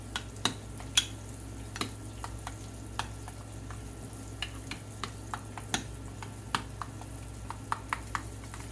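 Homemade tartar sauce mixed in a bowl, a restaurant recipe: soft scraping and stirring with irregular light clicks of the utensil against the bowl, close and fairly quiet, with no talking.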